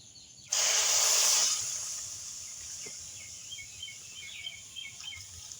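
Milk poured into a pan of hot semolina for sweet semolina pulao gives a sudden loud burst of steamy hissing that lasts about a second, then fades into a softer lingering sizzle with faint chirpy crackles.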